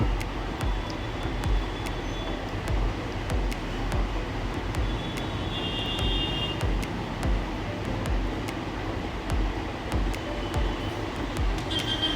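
Inside a moving train on a morning journey toward Varanasi: a steady, full rumble of the carriage with sharp, regular clicks from the rails running throughout, and no talking.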